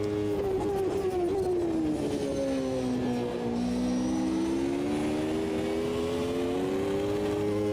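Engine of a Ferrari Formula One racing car in Automobilista 2, driving the 1993 Portuguese Grand Prix, holding a steady high whine whose pitch dips and climbs again, loud and continuous with no talk.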